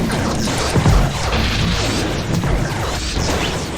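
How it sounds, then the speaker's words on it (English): The Sigil, a magical lightning weapon in the Strife video game, fires in a dense burst of crackling, crashing noise that rumbles on without a pause. "I like the sound effects for the Sigil too, since they do make it sound like the powerful magical lightning cannon it's supposed to be."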